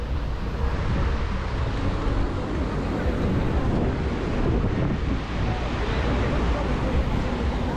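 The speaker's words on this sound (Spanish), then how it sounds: "¿Te gusta ver el oleaje?" Gentle surf breaking on a Caribbean beach at Playa Mami in Tulum in December, heard as a steady, loud wash of wave noise with wind buffeting the microphone throughout, no voices.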